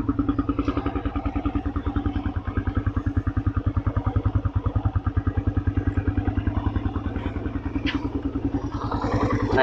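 A 2015 Suzuki Satria FU motorcycle engine idles close up, a loud, even rapid pulsing putter that holds steady throughout.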